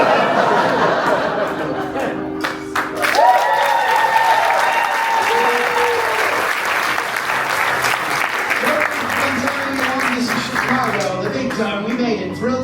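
A nightclub magic audience at a live show bursts into sustained applause after a torch-extinguishing trick, with scattered chuckles and chatter mixed in.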